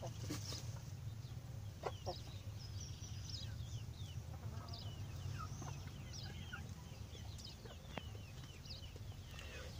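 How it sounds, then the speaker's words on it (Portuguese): A hen clucks softly near a nest in a poultry coop, with scattered short clucks and chirps from nearby birds over a steady low background hum, faint and close. "E aqui embaixo aqui tem uma galinha também que já está perto de colocar ovo."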